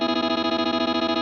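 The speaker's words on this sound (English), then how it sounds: "This pedal has a setting where if you send it a chord, it'll just immediately take the chord and start to repeat it in this like inhuman way" A Chase Bliss Onward pedal sampling a chord and repeating it in a rapid, mechanical stutter; dense, bright, effected tone pulsing in even fast beats, close and loud, with no talking.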